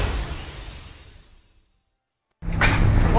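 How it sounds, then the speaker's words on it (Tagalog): The glass door of a GEL Transport bus is smashed during a road rage incident in Pasay City, heard as a loud noisy crash that fades into silence before another harsh burst of noise. "matapos niyang basagin ang salaming pinto ng isang bus ng GEL Transport"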